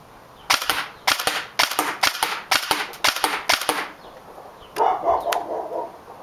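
Airsoft AEG rifle firing single shots on semi-auto: about eight sharp, evenly spaced cracks close to the mic, with each shot followed by a quick mechanical rattle, then a brief scuffing handling noise at the end.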